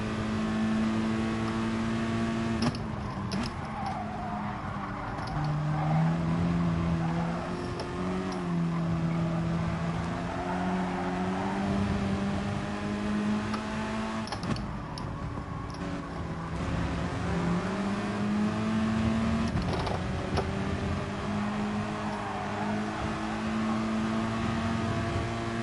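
Race car engine in Gran Turismo Sport holds a steady drone, shifting pitch through gear changes with brief revs and a few sharp clicks as it pulls away at moderate loudness.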